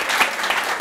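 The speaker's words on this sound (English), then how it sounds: "So a big round of applause." A short burst of steady clapping from an audience at a tech hub event in Bucharest, dense and even with no voices over it.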